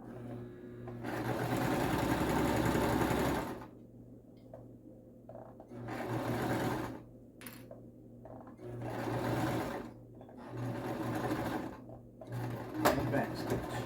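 Sewing machine stitching a special needs face cover and neck shield combo, running in several bursts of steady whirring separated by short pauses, with handling noises between runs and a voice talking faintly throughout.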